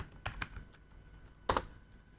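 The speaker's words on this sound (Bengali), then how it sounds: "এখানে আমি টাইপ করে দেব" A few quiet keystrokes on a computer keyboard: two light taps early, then a sharper double tap near the end, with faint room noise between and no voices.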